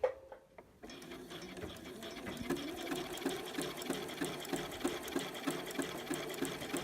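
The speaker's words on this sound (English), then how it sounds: "I'm going to run this zigzag carefully near the edge of this lace without going over the edge of the lace" A sewing machine runs a steady zigzag stitch along the edge of stretch lace in contrasting thread, its needle chattering in a fast, even rhythm after a brief quiet start, close and continuous.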